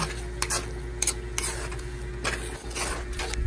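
Pesto being stirred into tuna pasta in a pan, with hot and spicy tuna mixed in; steady scraping and stirring over a soft sizzle, with a few sharper clinks of the utensil against the pan.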